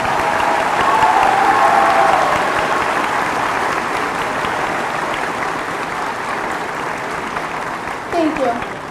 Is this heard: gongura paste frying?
no